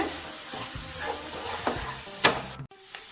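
Cauliflower stirred and fried in a pan sizzles steadily while a spoon scrapes and clatters against the metal in irregular strokes, loud and close.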